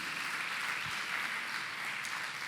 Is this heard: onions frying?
no